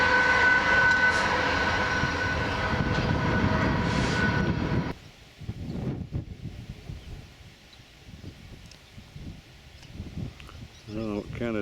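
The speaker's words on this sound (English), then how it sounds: "an awful long train" A loud, rumbling train rolls steadily past for several seconds, then cuts off abruptly to quieter ambient noise with scattered knocks.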